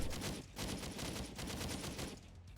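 Gunfire from the video game Rise: 30 Minutes to Extinction comes in rapid, rhythmic automatic bursts that repeat steadily. It plays fairly quietly in the background with no speech.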